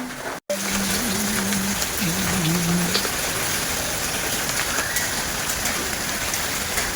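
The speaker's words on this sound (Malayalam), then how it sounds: "പിന്നെ നല്ല മഴയാണ് ഇടി രക്ഷയില്ല സൂപ്പർ മഴ" Heavy rain pours down in a constant dense roar, with a brief dropout near the start and a faint low hum underneath early on.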